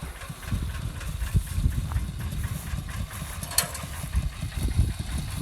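Small engine running steadily to power a water pump at a rice-field fish-catching spot outdoors, a continuous low rumbling drone with slight unevenness, moderately loud throughout with no talk.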